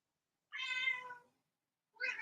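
A house cat meows twice, one long clear drawn-out meow followed after a silent pause by the start of a second, close and distinct against silence.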